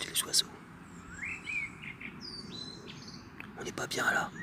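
Birds sing in a calm natural setting, with clear chirps and short trills rising and falling at moderate distance over a faint background hum, a few brighter calls near the end, no voices.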